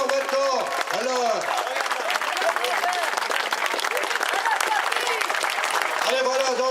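Dense, steady crowd applause fills a cycling championship ceremony in Brittany, continuous and loud from start to end, with faint voices mixed into the clapping.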